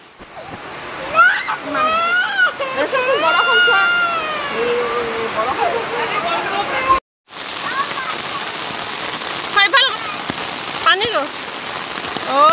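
Steady heavy monsoon rain pours down throughout during a power cut, a dense wash of hiss with a brief dropout midway, while a voice talks over it.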